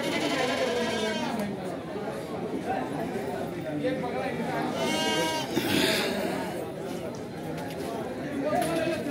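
Goats bleat repeatedly at a crowded goat market held at Eid, with wavering cries rising over a steady hum of crowd chatter and people talking nearby.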